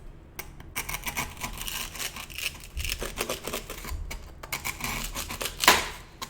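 Scissors cutting through craft material, a series of irregular crisp snips and rustles close by, separated by short pauses, with one louder scrape near the end and no talk.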